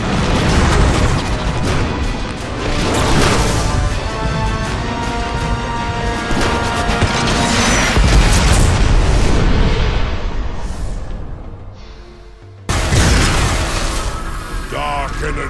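Loud cinematic crash and rumbling explosions as a warship rams into a space station in Transformers: War for Cybertron, with dense booms and metallic impacts throughout, a brief drop near the end before the roar surges back, mixed under music and voices.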